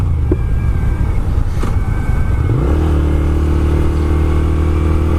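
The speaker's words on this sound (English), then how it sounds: "I've been working on my second gear clutch ups" A car's engine revs up for a second-gear clutch-up burnout, climbing in a rising sweep before holding at a loud, steady high-rpm drone. The sound is close and carries no talk.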